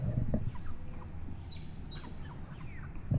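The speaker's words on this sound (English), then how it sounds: "Look at all your chickens, Archer." Backyard chickens near a coop give soft clucks and calls, faint and a little distant, with brief louder bumps at the start and end.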